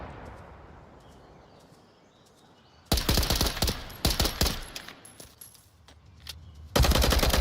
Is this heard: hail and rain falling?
no